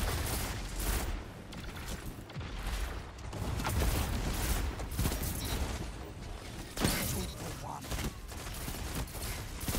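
Heavy pulse rifles fire in a video game as dense, continuous volleys of punchy bursts layered with explosions and combat noise throughout. Someone talks over the action.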